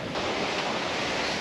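Leopard 45 catamaran under full sail in about 15 knots of wind, a constant loud rush of waves and water against the hulls mixed with wind buffeting the microphone.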